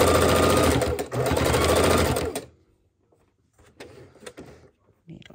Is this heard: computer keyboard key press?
no